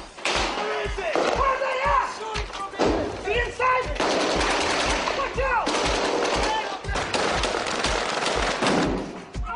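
Bursts of gunfire crack repeatedly, some in rapid automatic volleys, loud and close, during an enemy attack on soldiers searching a mosque in the Iraq War, with voices shouting between and over the shots.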